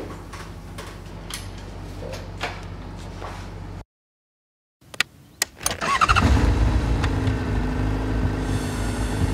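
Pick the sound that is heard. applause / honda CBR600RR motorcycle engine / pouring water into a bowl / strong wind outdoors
honda CBR600RR motorcycle engine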